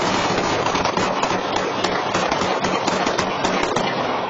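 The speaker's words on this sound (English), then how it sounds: "you heard one barrage of gunfire. This is the second that happened about a minute later" A dense, continuous barrage of sharp cracking gunshots in a Las Vegas neighborhood, many overlapping bursts with no pauses, loud and sustained throughout.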